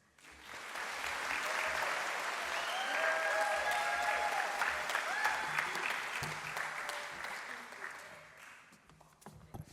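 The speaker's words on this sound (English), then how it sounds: "how about one more big round of applause for Shreya Rangaraju for her film Unleashing Potential?" Big, sustained round of applause from the audience at a short film awards ceremony, dense clapping swelling and holding steady with some cheering mixed in before tapering near the end.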